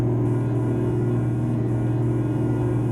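A sustained, loud, steady truck air horn blast from a Hino 700 in Euro Truck Simulator 2, with a deep droning tone, held continuously without breaks.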